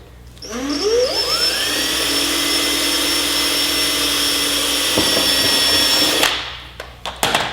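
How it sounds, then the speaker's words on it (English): A unibit step drill bit whines up to speed and bores through motorcycle race bodywork on a Honda CBR1000RR, a loud close steady drilling that runs for several seconds and then cuts off, followed by a few clicks. "drill bit that I have, the unibit. It's going to go right through it."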